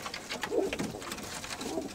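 Pigeons coo softly at a pigeon-flying gathering in Veria, Greece, low throaty murmurs rising and falling under faint background noise, distant-sounding and quiet, with no speech.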